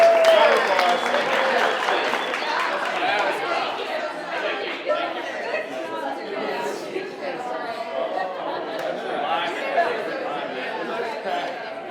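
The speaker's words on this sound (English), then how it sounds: "Hey, round of applause for the contestants" A reception crowd claps for contestants amid lively chatter and laughter, with applause mixed under loud overlapping voices throughout.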